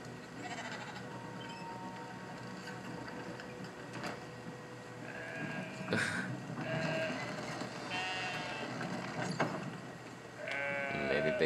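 A few sheep bleats in the video game Brothers: A Tale of Two Sons ring out over a quiet background of faint mechanical whirring and clicks, with the last bleat near the end.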